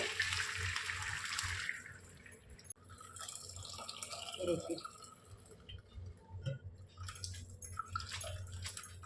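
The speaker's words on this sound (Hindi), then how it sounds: "इसे मैं निकाल के इसका पानी में ड्रेन कर लेती हूँ इसे इस तरह से" Water drains off freshly boiled vegetable noodles for Hakka noodles, a steady splashing trickle that runs under someone talking, with a few louder pours midway through.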